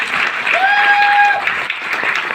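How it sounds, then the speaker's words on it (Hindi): An audience applauds for a speaker's parents at a direct-selling promotion speech, bright dense clapping held for the full span with a brief tonal whine, likely microphone feedback, rising over it. "मैं चाहूँगा हमारे माता पिता के लिए जोरदार ताली होनी चाहिए।"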